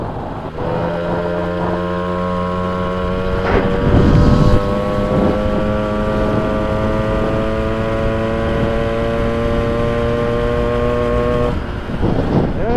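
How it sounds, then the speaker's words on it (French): A small moped engine revs while coasting full speed downhill, a loud close steady drone whose pitch climbs gradually, with wind buffeting the microphone and a brief rougher burst near the start. "ça marche vraiment bien une petite moto bec. Elle accélère toute seule"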